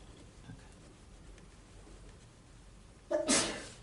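A single sharp sneeze bursts out near the end after quiet room tone, short and loud against the faint background.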